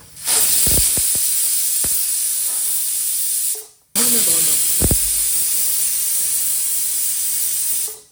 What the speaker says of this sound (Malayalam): വിസിൽ വരാൻ തുടങ്ങിയിട്ടുണ്ട്